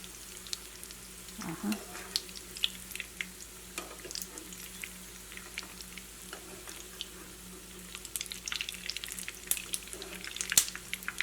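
A wheat flour and egg snack deep-frying in oil over a medium flame, giving a faint steady sizzle with occasional soft pops and stirring clicks, quiet and close.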